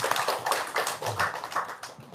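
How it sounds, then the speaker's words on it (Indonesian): A small group of people clap their hands, a quick, fairly quiet patter of claps in uneven bursts lasting a couple of seconds, with no talk over it. "tepuk tangan dong sekali lagi"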